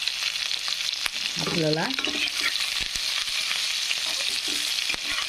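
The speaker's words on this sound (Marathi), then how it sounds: "तर मस्तपैकी असं फ्राय झाला कांदा" Chopped onion fries in hot oil with mustard seeds and cumin, giving a loud, steady sizzle with spatula scrapes throughout; a voice briefly speaks partway through.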